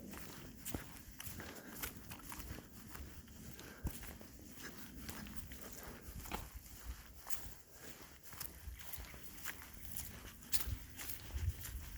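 A mule's hooves plodding along a trail in a steady, unhurried rhythm, quiet and close, with outdoor ambience behind.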